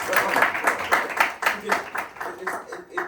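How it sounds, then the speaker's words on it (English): Audience applause at an FIU Honors event: a few seconds of steady, moderately quiet clapping from a group with no voices over it, fading slightly toward the end. "So round of applause for that."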